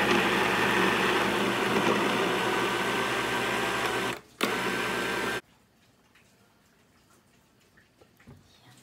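A blender grinds sweet potato, taro, coconut milk and soy milk for halaya in a loud, steady whirring buzz that stops abruptly after about five seconds, leaving near silence.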